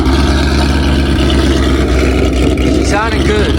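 A Ford Mustang with a loud aftermarket exhaust and a ghost cam tune idles, heard from behind the car as a heavy, deep, continuous rumble up close.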